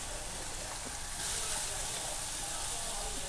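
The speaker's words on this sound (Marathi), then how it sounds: "सो तेल तापलंय, तेलामध्ये मी हे" Hot oil sizzles and hisses steadily in a pan, a soft continuous frying sound heard close up that swells slightly partway through, with no talking.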